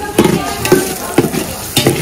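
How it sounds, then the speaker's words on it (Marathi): Ten chopped onions sautéing in oil for a large Malvani-style mutton dish in a Kokan village kitchen, heard as a steady sizzle with four regular stirring scrapes spaced about half a second apart, close and fairly loud. "सो आता कांदा छान तेलात परतवून घ्यायचा आहे."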